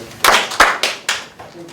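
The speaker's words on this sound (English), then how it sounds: "2 claps, boys." Group of boys at a school board meeting gives a couple of quick sharp claps in unison, followed by further scattered clap bursts, fairly close and loud in a reverberant room.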